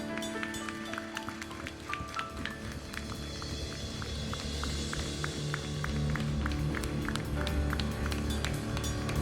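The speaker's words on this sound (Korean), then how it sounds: "우리 하나님께 감사의 영광의 박수" A church congregation claps together at the close of a Sunday worship prayer. Dense, steady applause runs throughout, with music sustained beneath it.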